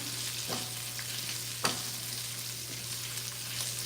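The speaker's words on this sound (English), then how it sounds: "So you just want to move it all around and make sure all the pieces of the sausage are nicely browned" Sausage pieces browning in a pan as they are moved around, a quiet steady frying hiss under a constant hum, broken by a couple of brief scraping stirs.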